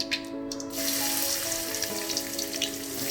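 Hot oil sizzles steadily in a pan while making a chicken bread cutlet, a close, continuous frying hiss with a brief quieter start, no talking.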